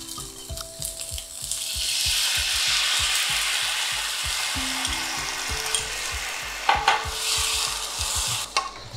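Pieces of pork fry in a pan and are stirred with a utensil, giving a steady loud sizzle overlaid with rhythmic scraping and clacking strokes against the pan.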